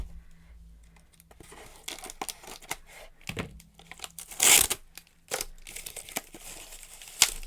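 Heavily taped packaging on a gift box being pulled and torn open, with scattered crinkling, crackling plastic and a couple of louder ripping bursts, close up and without talk.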